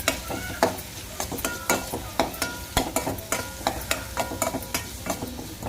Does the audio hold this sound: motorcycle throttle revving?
no